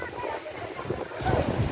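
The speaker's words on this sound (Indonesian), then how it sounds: "menikmati deburan ombak yang sementara menepis beberapa area pesisir pantai Nangapujung yang sangat indah" Waves roll and wash onto the sandy shore of the coast at Nanga Woja, a continuous close rush of surf mixed with wind noise on the microphone, swelling louder in the final moments.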